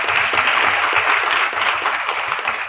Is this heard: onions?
no